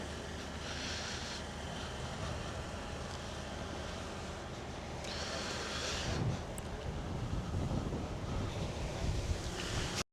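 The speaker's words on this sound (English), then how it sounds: "Windy as dude." Steady wind buffets the microphone throughout, a continuous loud roar with gusts swelling near the middle and end; no voices are heard.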